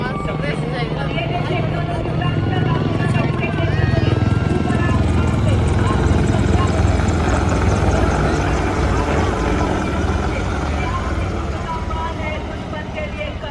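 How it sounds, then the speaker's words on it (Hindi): Apache military helicopters fly over the Republic Day parade on Kartavya Path, a loud sustained rotor thrum and engine roar running throughout, heard under continuous commentary. "अपाचे अपने हवाई जहाज से दुश्मन के सुरक्षा कवच को भेद कर उसे कमजोर बनाता है"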